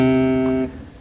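Bass guitar pull-off during a tapping exercise, the left hand plucking the string to sound a lower note: a sustained, ringing tone with strong harmonics that holds for about two thirds of a second, then decays quickly.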